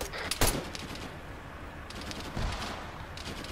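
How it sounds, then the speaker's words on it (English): Gunfire erupts during an ambush in the military game Arma 3, with a sharp loud burst near the start, then scattered shots and a second cluster of cracks later over a steady background rumble. "So we just stopped and then they start shooting at us."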